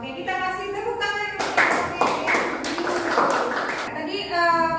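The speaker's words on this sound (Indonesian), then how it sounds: "Oke, kita kasih tepuk tangan." A classroom of students claps hands in a burst of applause lasting about two and a half seconds, framed by a teacher's speech before and after.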